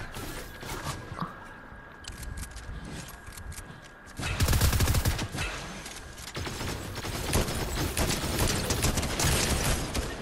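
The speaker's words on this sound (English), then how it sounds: "Oh, I get shot in my back!" Gunfire in a Fortnite match striking the player, heard as bursts of loud rapid shots that grow heavier partway through, with footsteps and mechanical clatter in the game mix.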